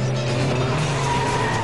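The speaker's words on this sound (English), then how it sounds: "The roaring grunt of these engines definitely inflates their egos." A modified Maruti 800 with an extra camshaft roars loudly and steadily up close, a dense, sustained engine drone with no pauses.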